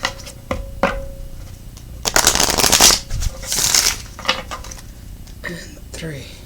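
Tarot cards are shuffled by hand in several quick riffling bursts, crisp papery flutters close to the mic separated by brief pauses and soft handling taps.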